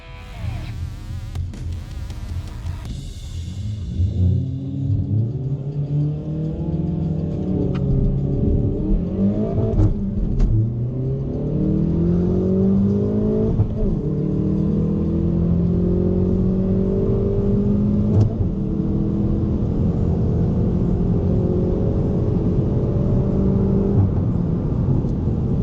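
A Hyundai i30N launches hard down a quarter-mile drag strip. The engine note climbs loud and close through several rising sweeps, broken by brief dips at the gear changes, and holds strong to the end.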